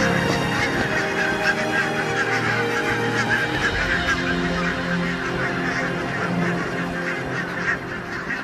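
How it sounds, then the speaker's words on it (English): Barnacle geese, a big flock over from Greenland for autumn and winter on rich farmland, fill the air with a constant babble of overlapping honks, close and loud without any pause. "Barnacle geese."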